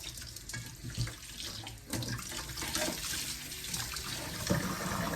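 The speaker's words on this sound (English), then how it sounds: "I'll fill my basin up with some water." Water from a kitchen tap fills a basin for rinsing shrimp, a steady rushing and splashing stream, close and moderately quiet, running without pause.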